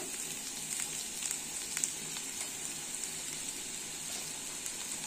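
Vegetables frying in a pan with ground spices such as turmeric, a steady close sizzle with faint crackles and occasional soft scrapes, no voices.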